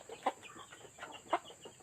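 Free-range village chickens cluck softly nearby, a few short low calls scattered over a faint steady background hum.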